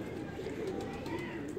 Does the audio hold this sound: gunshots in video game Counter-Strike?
no